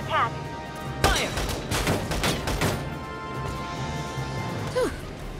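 Battle gunfire from the video game Valkyria Chronicles 4: several sharp, loud shots and bursts crack in quick succession, with voices speaking briefly at the start and end.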